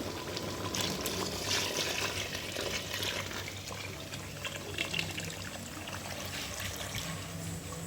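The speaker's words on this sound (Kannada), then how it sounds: "ನಾನು 5 ಲೋಟ ಅಕ್ಕಿ ತೊಗೊಂಡಿರೋದ್ರಿಂದ 10 ಲೋಟ ನೀರನ್ನ ಹಾಕ್ತಾಯಿದ್ದೀನಿ" Water pours steadily into a cooking pot for rice, a continuous splashing fill that holds at an even level throughout, heard close.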